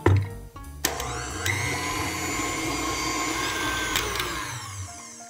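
An electric mixer whirs steadily through gluten-free, nut-free chocolate chip cookie dough made with arrowroot powder, a loud continuous motor drone with a sharp start and brief bumps as the beaters strain.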